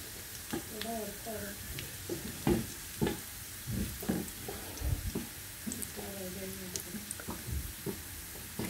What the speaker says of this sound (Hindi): लहसुन को फ्राई करूँगी अच्छी तरह।